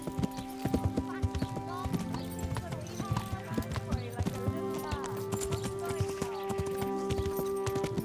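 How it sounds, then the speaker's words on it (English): Horse hooves clip-clop steadily while a rider travels on horseback in the medieval video game Kingdom Come: Deliverance, with rhythmic hoofbeats under background music and someone talking over them. "Come on, horse. I'm really bad at driving this horse. Riding this horse."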